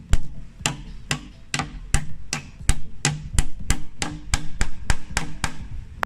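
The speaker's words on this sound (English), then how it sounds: "then you go ahead and hammer away" Rapid, loud hammer blows drive nails into a wood board in a steady series, about fifteen sharp impacts ringing close by with no talking.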